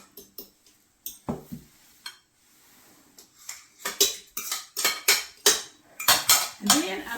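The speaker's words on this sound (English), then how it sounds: "I'll throw my 2 sticks of butter in" Two sticks of softened butter being dropped into a mixing bowl for pound cake, heard as a run of close, sharp clinks and knocks of bowl and utensils, growing busier and louder toward the end.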